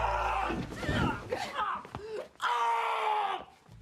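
A man in a horror film yells and groans off-screen, his strained, wavering cries rising and breaking across several seconds, then a long sustained howl, fairly loud and unaccompanied by talk.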